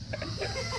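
A hen clucks in short bursts through steady background noise and low murmuring, the calls close and moderately loud.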